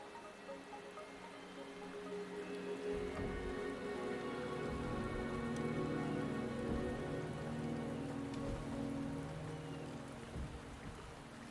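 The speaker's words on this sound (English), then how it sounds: "rain is subsiding, and the sky will soon clear" Steady rain pours in the video game Wuthering Waves, a dense, even hiss of drops on surfaces that swells slightly and then eases, with no voices.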